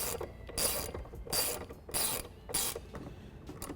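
A ratchet drives a T40 Torx bit to tighten the factory bolt on a replacement manual exterior mirror of a Jeep JK Wrangler, giving four close, loud bursts of rapid clicking separated by short pauses.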